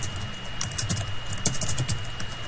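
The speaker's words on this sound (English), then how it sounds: "start typing in some ActionScript" Rapid keystrokes clatter on a computer keyboard while ActionScript code is entered, an irregular run of light clicks close by over a steady low hum, with no talking.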